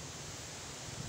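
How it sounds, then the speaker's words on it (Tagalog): Steady, broad wind noise rushes across the microphone, a constant hiss with low rumbling buffets and no voices. "Medyo mahangin lang."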